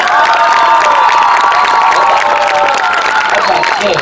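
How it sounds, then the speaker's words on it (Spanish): Crowd at an outdoor street show in Mar del Plata cheering and shouting loudly, with whoops and children's voices over scattered clapping, sustained and close. "Aplauso para la flaquita."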